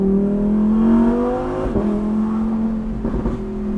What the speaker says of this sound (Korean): 지금 엔진 회전수 올라가는 게, 이건 터보 모델에서는 구현하기 쉽지 않아요